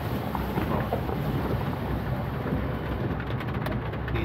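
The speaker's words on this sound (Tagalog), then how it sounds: "Grabe o ang alon no?" A dense, constant roar of turbulent floodwater waves from Typhoon Nika surges without a break along a boulevard in Gundaway, Quirino, loud and close, with some wind buffeting.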